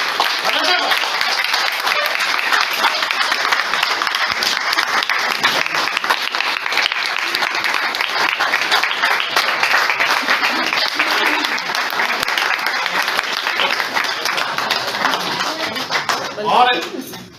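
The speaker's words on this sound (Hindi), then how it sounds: "मैं समझता हूं कि इतनी पुरजोर तालियां बजाइएगा" Loud, dense applause from a theatre audience at the opening ceremony of the stage play Geebat, sustained steadily throughout before tapering off near the end.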